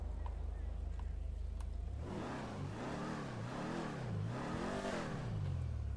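A 1969 Dodge Charger barn find in GTA 5 cranks and starts, its engine rising from a low idle into a rhythmic, wavering rumble with repeated revs, close and steady.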